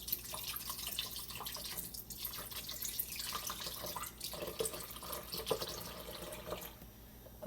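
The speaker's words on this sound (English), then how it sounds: "I put in 1 cup of hemp milk." Hemp milk pouring into a marked blender cup, a soft continuous liquid trickle with small splashes, close and quiet with no talking.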